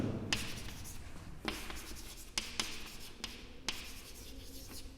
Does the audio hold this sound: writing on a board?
yes